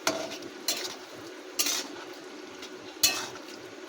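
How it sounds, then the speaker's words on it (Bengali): Mustard and green chilli gravy is stirred in a pan, with four distinct scraping strokes of a spoon against the metal over a soft, quiet simmer. "দেখো এমন করে একটু নাড়িয়ে নেব"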